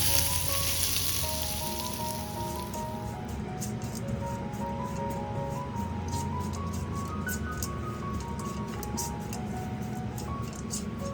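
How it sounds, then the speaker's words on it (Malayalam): Grated coconut roasting in a hot pan for varutharacha chicken curry, giving a steady, close sizzle and crackle that runs unbroken throughout, with faint tonal music underneath. "ഇനി ഇതിലേക്ക് 1/4 കപ്പ് തേങ്ങ ചിരകിയതുകൂടെ ചേർത്ത് നന്നായി ഒന്ന് മൂപ്പിച്ചെടുക്കാം."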